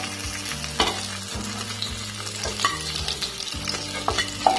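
Potato pieces frying in oil in the same pan used for tangra fish, a steady close sizzle with frequent stirring clinks and scrapes throughout.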